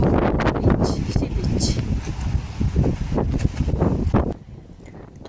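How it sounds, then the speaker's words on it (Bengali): Strong wind at Gopalpur beach roars and buffets the microphone in a continuous, loud rush, with gusts rising and falling before easing slightly near the end. "এখানে এত হাওয়া দিচ্ছে যেতেই পারা যাচ্ছে না সমুদ্রের ধারে প্রচুর পরিমাণে হাওয়া দিচ্ছে"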